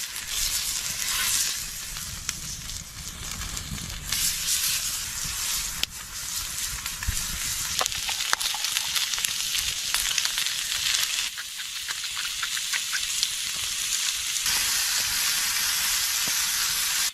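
Pre-cooked food warming over an open campfire, seasoned with salt, pepper and garlic powder, sizzles and hisses loudly and steadily for the whole stretch, with occasional stirring scrapes and no talk.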